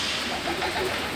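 Domestic pigeons coo in their loft in early summer, a soft, low, repeated rolling call close by over a steady background hiss.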